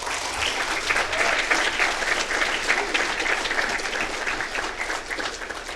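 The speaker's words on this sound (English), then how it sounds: "I encourage you to give them a round of applause" An audience at a Downey city council meeting in 2019 gives a sustained round of applause, a dense, even patter of many hands clapping that holds steady throughout and fades slightly at the end.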